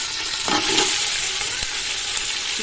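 Chicken pieces dropped into very hot ghee crackle and hiss, giving a steady close-up sizzle with a few brief sharp pops and stirring sounds.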